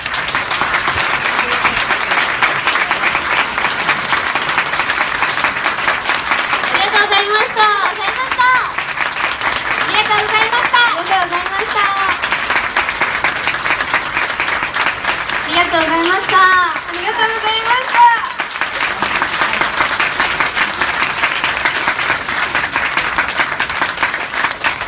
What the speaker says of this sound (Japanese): もう一度大きな拍手で4組をお送りください。